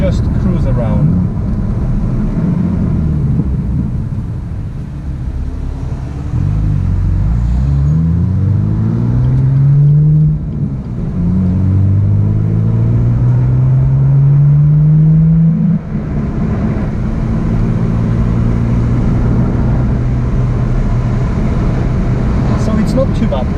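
A BMW M2 fitted with a modified exhaust cruises steadily, its engine droning loud and close with rising and falling tone as it shifts through gears.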